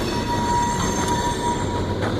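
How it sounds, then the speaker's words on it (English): A train passing close beside a trail shelter makes a loud, steady rumble of rolling rail cars, with faint squealing from the wheels running under it. "The train is really loud behind me."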